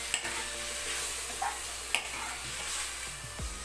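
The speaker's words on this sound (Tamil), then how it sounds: "இன்னும் 2 நிமிஷத்துக்கு வதக்கட்டும்." Tomatoes and vegetables sauté in a pan, giving a steady close sizzle with a few scraping stirs of a spoon against the pan.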